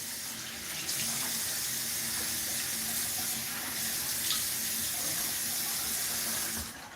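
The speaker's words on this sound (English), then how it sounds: "just putting some water on the face" Tap water runs steadily into a sink while someone wets a stubbled face, a continuous close splashing rush that holds at an even level and then stops abruptly near the end.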